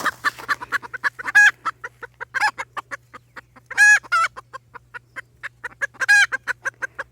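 Bantam chickens clucking close by in a steady series of short clucks, broken by a few longer, louder squawking calls, with no talking and a faint low hum underneath.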